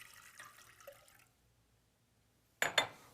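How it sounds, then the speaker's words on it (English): White vinegar splashes briefly into a container for pickling eggs, a short close pour of about half a second after quiet faint kitchen clatter. "we combine a good amount of white vinegar"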